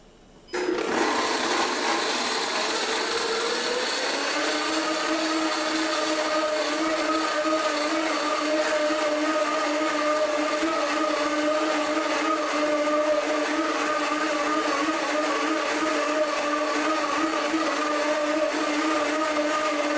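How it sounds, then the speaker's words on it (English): A Blendtec Total Blender starts abruptly and runs on high with a loud, steady motor whine and a dense buzzing roar that holds for the whole stretch, heard close up with no talking. "Here's the Blendtec Total Blender. I'm going to run this on high."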